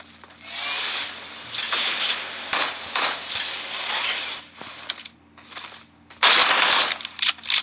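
Rapid automatic gunfire in the PUBG Mobile video game, on the Livik map, comes in loud crackling bursts that stop and start, with a final sharp volley near the end.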